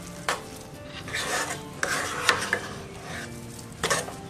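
A spoon stirs a laddoo mixture with large chopped cashew and almond pieces in a pan, giving soft scraping and rubbing with a few clinking knocks against the metal, faint and close.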